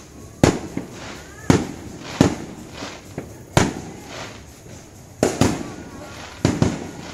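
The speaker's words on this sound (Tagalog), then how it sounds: "Yan yung sinasabi nilang bawal ang paputok." New Year fireworks and firecrackers go off outdoors as a run of sharp, loud bangs spaced about a second apart, some close and some farther off, over a low background rumble.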